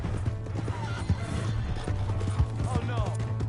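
Hooves clip-clop in a steady rhythm as a horse moves in Red Dead Redemption 2, with a few whinnies mixed in and people talking over the hoofbeats.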